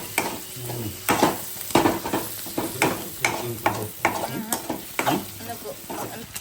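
Peanuts fry in a pan while being stirred, a steady sizzle broken by a regular series of scraping, clacking strokes of the spoon against the pan, close and moderately loud.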